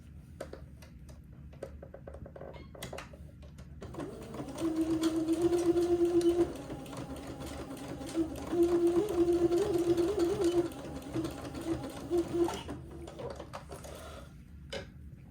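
Sewing machine stitching back and forth across an elastic casing, its steady mechanical whir starting partway in, pausing briefly, then running again in short close-up bursts with no talk.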